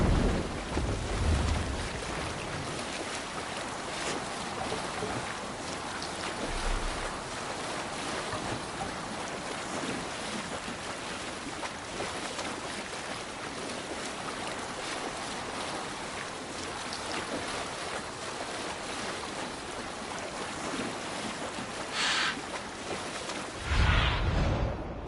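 A Viking longship under sail on the open sea in Assassin's Creed Valhalla, with steady wind and wave wash rolling continuously and a few louder surges near the start and end.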